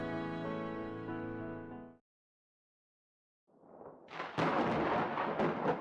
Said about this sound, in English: Thunder rumbles outside